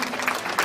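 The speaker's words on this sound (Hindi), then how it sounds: "इनका जोरदार तालियों से अभिनंदन।" A short burst of steady crowd applause at a Guru Purnima festival gathering at Gayatri Shaktipeeth, Lakapa, Salumber, Rajasthan, many hands clapping at once, fairly loud and continuous.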